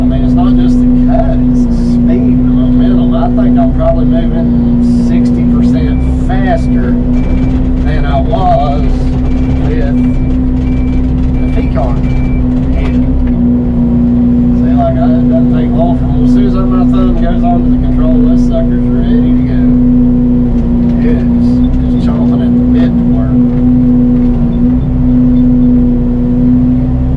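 A Brushmaster 60-inch mulcher head running on a mini excavator, a loud continuous droning hum with a steady engine tone and a busy rattling, chewing texture throughout, with a voice talking over it.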